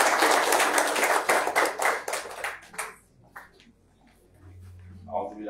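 Audience at a university ceremony in Togo applauding, dense clapping for about three seconds that thins into a few scattered claps, followed by a brief voice.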